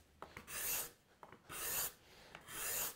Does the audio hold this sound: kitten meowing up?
no